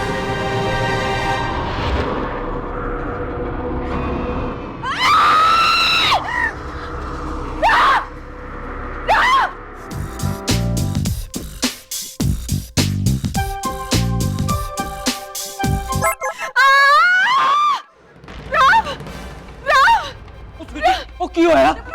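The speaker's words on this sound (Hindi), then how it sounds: "क्या हुआ माँ, चिल्ला क्यों रही है?" A woman screams in a dramatic Hindi TV serial scene, with several sharp, loud cries among gasps, other voices and bursts of background score.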